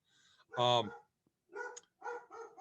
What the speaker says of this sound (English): That's my dog, not happy with the mailman.